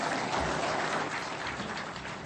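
An audience gives steady, dense applause after a speech by President Ruto at an e-citizen anniversary event, an even wash of many hands clapping at a moderate level.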